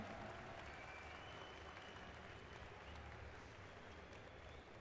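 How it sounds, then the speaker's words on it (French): A crowd applauds two esports teams after a group-stage match at the ESWC tournament, producing a continuous, even wash of clapping and crowd noise that sounds distant and subdued, with no talk over it. "On peut les applaudir, merci."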